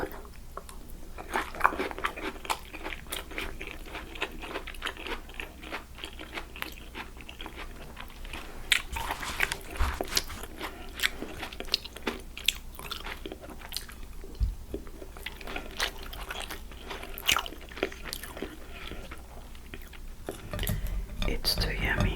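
Chewing and biting on crunchy air-fried vegan tofu with rice and stir-fried vegetables, close and soft, with steady mouth sounds and quiet whispered talk throughout.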